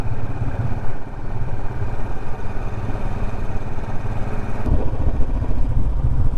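A Royal Enfield Bullet Standard motorcycle rides along a hill road, its engine giving a loud, continuous thumping rumble close by, with no voices.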